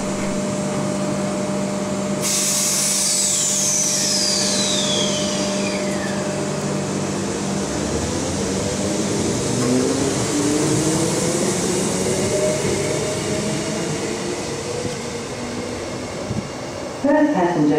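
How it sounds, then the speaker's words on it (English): A Transperth A-Series electric multiple unit pulls out of Platform 2 toward Fremantle, with a continuous electric motor whine rising and sweeping in pitch over steady rolling rumble, heard close and sustained throughout. "our train sits in Platform 2, ready for departure to Fremantle, on board a Transperth A-Series electric multiple unit"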